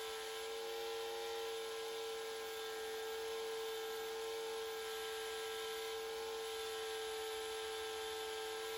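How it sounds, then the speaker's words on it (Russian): A router whines steadily as it cuts a groove for slats in a wooden bar, a constant high-pitched motor drone that holds for the whole stretch with no talk. "В бруске сразу делаю паз под рейки с помощью фрезера"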